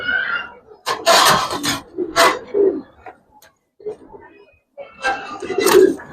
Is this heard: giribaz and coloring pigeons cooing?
yes